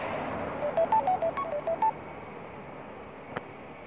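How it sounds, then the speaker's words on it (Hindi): A phone call dialing out from a night-time street, with a quick run of about a dozen short beeping tones like keypad dialing, then one faint blip under steady background hum. "फोन कर दिया"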